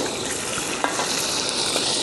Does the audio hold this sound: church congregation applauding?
no